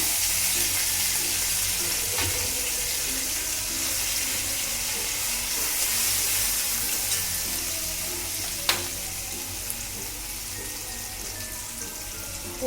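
Ginger paste fries with cauliflower in a pan, giving a dense continuous sizzle with a faint clink or two of a spoon against the pan.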